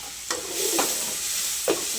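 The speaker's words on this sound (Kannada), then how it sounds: "ಈರುಳ್ಳಿ ಟೊಮೆಟೊ ಬೇಯಿಸ್ಕೊತೀನಿ" Chopped onion and tomato stirred in a hot pan, a continuous sizzle with three scraping strokes of a spoon across the pan, close up and without talk.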